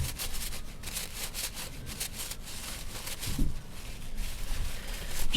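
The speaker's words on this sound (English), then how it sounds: "Just wiping this off because this is old, dirty oil." Cloth rubbing old dirty oil off clutch parts from a 1969 Honda CL450 motorcycle, a steady soft scrubbing and wiping close by with no talk.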